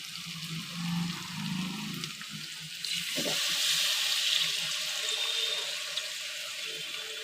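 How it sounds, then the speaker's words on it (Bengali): Water is poured into a pan of cooked-down masala for malai paneer: a soft sizzle at first, then a steady hissing, bubbling wash as the liquid hits the hot spices, heard alone without talk. "এবার আমি জল দিয়ে দেবো যে জল দিয়ে আমি পনিরটা ভিজিয়েছিলাম সেই জলটাই দিয়ে দেবো"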